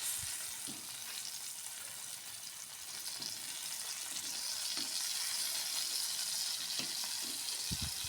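Fish frying in a pan gives a steady, close sizzle throughout, with occasional clinks and scrapes of a utensil against the pan and no talking.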